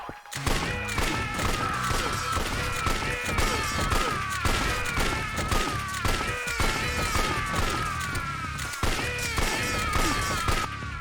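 Sustained gunfire from a second set of guns in a Yakuza game, dense rapid bursts of shots and thuds forming a continuous loud barrage with mechanical clatter throughout.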